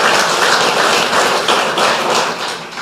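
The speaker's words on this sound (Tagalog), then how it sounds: "Malakas na palakpak para sa Panginoon." Loud, sustained clapping in praise of the Lord, dense and steady from start to finish with no voices over it.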